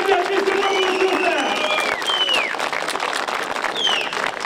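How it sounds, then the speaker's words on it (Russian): Crowd applause for the winner of a boxing bout, a dense continuous wash of clapping with sharp sliding whistles cutting through, loud and close throughout. "Лучшие аплодисменты от мистера Мурзуза!"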